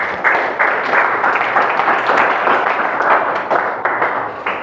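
Classroom applause from students in a mathematics lesson, a steady, dense clapping that holds fairly loud and even across the whole stretch with no talk over it.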